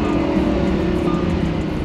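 A stock Lamborghini engine holds a loud, steady, deep rumble up close, droning evenly without clear revving throughout the short stretch.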